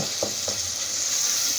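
Tomatoes cooking down in a pan over medium heat sizzle in a steady, soft fry, with a couple of brief stirring scrapes near the start and no talking.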